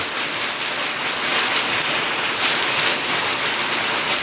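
Heavy rain from an all-night storm pours down in a steady, dense, loud hiss with no pauses and no voices.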